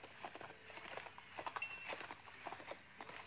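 A horse out on a trail ride walks with steady clip-clopping hooves in an even rhythm, faint and muffled against outdoor background noise.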